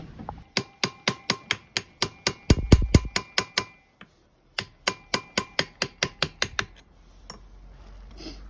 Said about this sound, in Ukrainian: зараз розшпринтовуємо гайку і знімаємо фланець